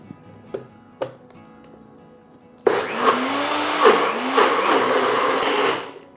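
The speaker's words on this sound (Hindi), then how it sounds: "ऐसे ही ग्राइंड करेंगे मिक्सर में डालकर।" A couple of sharp clicks, then a mixer grinder grinding soaked rice roars to life, whirring loudly and steadily with its pitch wavering as it churns, before stopping.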